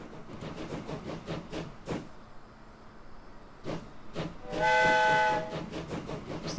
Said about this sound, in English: So the train's underway.